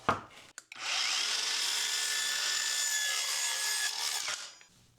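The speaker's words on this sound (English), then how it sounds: "Let's try a few cuts in some plywood with a thin wood veneer on both sides." A Harbor Freight Hercules 4.5-inch saw cuts through plywood with a thin wood veneer on both sides, a loud, steady, close rasping whine lasting about four seconds before spinning down.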